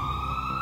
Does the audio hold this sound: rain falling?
no